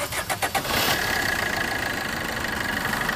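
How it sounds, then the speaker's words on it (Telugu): A second-hand Maruti Vitara Brezza ZDi diesel engine cranks with a few quick turns, catches, then settles into a close, steady, gruff idle with a faint whine on top. "డీజిల్ వెహికల్ కాబట్టి ఇట్లా ఉంటుంది సౌండ్ అయితే."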